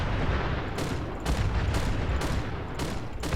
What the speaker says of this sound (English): So I do like the sounds of this weapon.